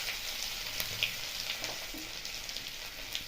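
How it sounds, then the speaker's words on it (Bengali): Cumin seeds sizzle in hot oil left over from frying paneer for a dhaba-style matar paneer, a steady crackling hiss with small pops throughout, fairly close and alone. "এবার ওই তেলে দিয়ে দিলাম জিরে।"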